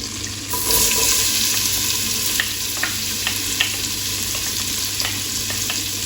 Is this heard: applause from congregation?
no